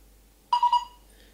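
Darkroom development timer used while processing colour film with a C41 kit, giving three short, bright electronic beeps in quick succession, close and clear against a quiet room.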